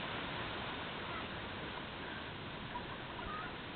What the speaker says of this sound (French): Une volée de poulets en direct.